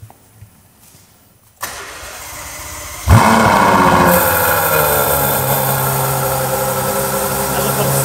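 A sports car engine cranks and fires with a sharp rev after a quiet pause, then settles into a loud, steady, rumbling idle close by.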